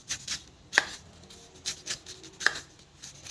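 A knife slicing the rind off a whole pineapple in a few deliberate strokes, close and fairly quiet, with short crisp cuts and rasping scrapes spaced out.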